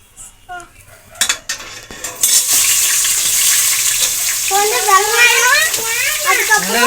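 Village-style country chicken biryani ingredients stirred in hot oil clatter against a metal pot, then a loud, steady sizzle takes over while someone talks over it.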